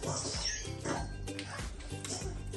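A hyper dog whimpers and gives short yips and bow-wow barks indoors, in quick bursts over a couple of seconds, with a person's voice faintly mixed in.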